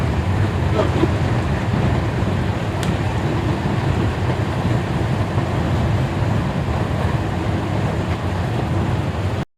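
Siddheshwar Superfast Express train running between stations, a steady loud rumble heard from inside the carriage with no pauses, ending abruptly.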